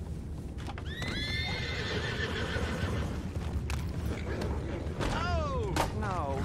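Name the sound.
horses in Red Dead Redemption 2 video game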